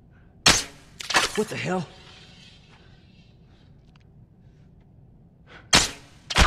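Sharp, loud gunshots ring out in The Last of Us: one crack, then a tight pair, a quiet gap, and two more near the end. A voice exclaims briefly between the shots.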